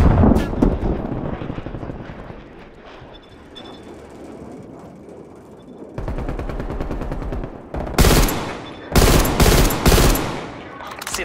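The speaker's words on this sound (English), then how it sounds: "Enemy attack helo above." Enemy attack helicopter passing overhead in the video game Call of Duty Black Ops Cold War, a continuous rotor drone mixed with loud bursts of automatic gunfire and explosions, growing busier and louder in the second half.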